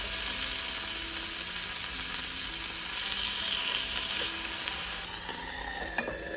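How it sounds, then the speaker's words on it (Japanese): Meat sizzling on a hot grill inside a parked van in winter, a steady crackling hiss up close that continues without pause and fades slightly near the end. "車内で焼肉をやるっていう無謀な挑戦"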